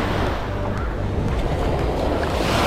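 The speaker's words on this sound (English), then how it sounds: "The waves are really strong as well." Strong ocean waves at a Hawaii beach roll in as loud, continuous surf and churning water, close by and filling the whole moment with no talking.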